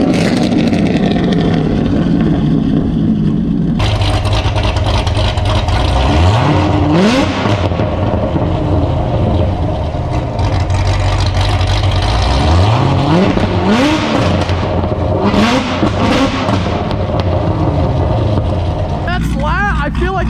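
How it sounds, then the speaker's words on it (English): A car engine fitted with an aftermarket exhaust revs loudly in sharp, rising bursts over a steady, throaty idle, close by, while people talk over it. "Gotta hear Shane's car."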